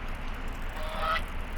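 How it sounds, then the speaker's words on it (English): Goose honking triggered by clicking a TV in the Moth House video game, a short nasal honk standing out briefly near the end over a steady wash of game ambience. "it makes goose noises"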